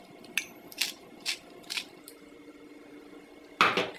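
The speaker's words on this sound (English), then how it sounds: "and then just keep mashing" Potatoes seasoned with salt and black pepper mashed in a pot, a few soft squishing strokes spaced about half a second apart, then a louder scrape of the masher against the pot at the end.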